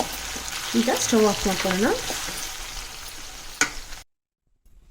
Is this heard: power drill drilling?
no